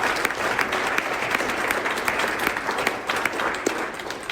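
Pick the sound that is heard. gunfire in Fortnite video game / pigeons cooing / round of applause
round of applause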